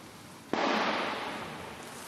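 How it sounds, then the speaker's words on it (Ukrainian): A single sharp distant report from an old 14.5 mm PTRD anti-tank rifle fired near the Yasynuvata road junction in eastern Ukraine, with a hard crack followed by a long rolling echo that fades slowly. "Зараз здалеку розстояння ПТРД стріляють."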